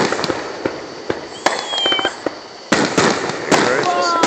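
Expensive backyard fireworks in Magnolia Pointe, Jackson County, Georgia, go off in a string of sharp booms and crackling bursts, some with whistling trails, fairly close and loud.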